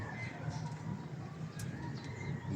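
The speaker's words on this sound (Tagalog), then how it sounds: "Dahil po doon kalapati." Soft pigeon coos drift in from a nearby rooftop beside a river, over a steady low rumble of outdoor background noise.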